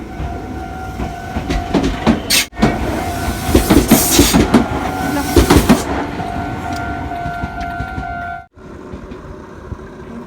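A train rolls past loudly and close by in Japan, a heavy continuous rumble with rhythmic clatter of wheels and a tonal whine that cuts off as it moves away.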